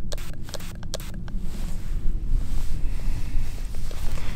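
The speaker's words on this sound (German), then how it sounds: "dass es sehr, sehr windig ist" Strong outdoor wind gusts roar steadily against the microphone as a low, continuous rumble, with a few faint clicks early on and no voices.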